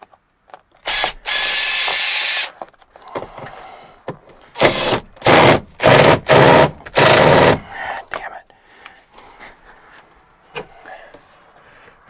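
Power ratchet taking screws out of a Freightliner FLC truck during a sleeper boot install: several loud, close bursts of buzzing tool noise, one long and then a quick run of shorter ones, with someone speaking in between.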